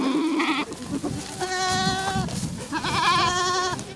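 Goats from a herd of about fifty near frontline Orikhiv, Ukraine, bleat nearby: a short call, then two long wavering bleats over outdoor background noise.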